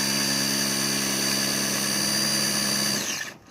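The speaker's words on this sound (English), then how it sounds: "Just hold the wheelie bar and do about a 3 to 5 second burnout." A Traxxas Funny Car RC drag car doing a burnout, its motor screaming at a steady high whine for about three seconds before spinning down and cutting off abruptly.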